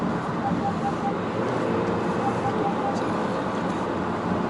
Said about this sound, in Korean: 자, 속도를 올렸고 제동 턴.